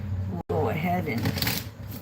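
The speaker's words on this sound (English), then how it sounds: "we're going to go ahead and shuffle these up" A deck of playing cards riffled and shuffled close up, a quick burst of flapping card noise with soft talking underneath.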